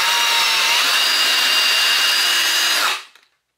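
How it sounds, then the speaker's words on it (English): A spinning drill bit is laid sideways against wood to cut a channel for a homemade wire stripper, giving a loud, close, steady whine and grind that stops abruptly near the end, with no talk. "all I'm doing is turning on the drill and then I'm laying it down on the wood so it kind of cuts into it to make a little channel."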